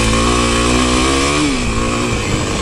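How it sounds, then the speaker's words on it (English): A Kawasaki KLX 300 dirt bike climbs a steep sandy hill, its engine loud and close. The engine holds a steady high rev, then the pitch wavers and drops as the rear wheel spins in the sand. "You heard it spin right there in the sand, but it went up easy at first."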